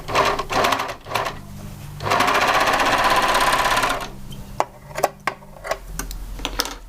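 A sewing machine stitches a bias strip onto a garment hem in close, loud bursts of fast mechanical clatter, with one long steady run in the middle, then short ticks and clicks as the fabric is handled.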